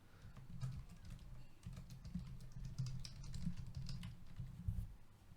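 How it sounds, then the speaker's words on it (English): Rapid, frantic typing on a computer keyboard, quiet and close, with irregular bursts of clicking keys and no talking. "you can probably hear me frantically typing"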